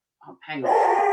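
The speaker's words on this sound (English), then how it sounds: "it's a beagle. He howls." A beagle lets out a rising, drawn-out howl at home during an online meeting, loud and close, beginning just after a brief spoken word.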